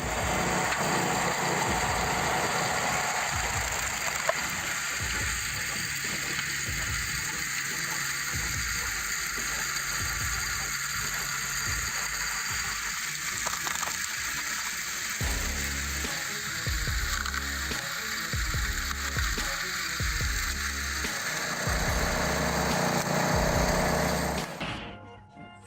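Engine on a firewood log splitter running steadily throughout at a moderate distance, a continuous droning hum with shifting lower rumble as the machine works, cutting off near the end, with no talk.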